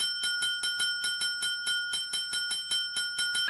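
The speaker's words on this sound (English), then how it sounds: "ring my bell." A bell sound effect rings in a fast, even series of bright metallic dings, about four per second, close and clear with nothing else heard.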